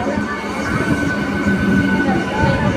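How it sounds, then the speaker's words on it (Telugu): A train pulls into a station on a suburban line toward Lingampally, with a steady rumbling roar of rolling carriages and faint squealing wheels that hold close and loud for the whole clip. "ఇట్లకెళ్ళి ఇంకొక ట్రైన్ వచ్చింది."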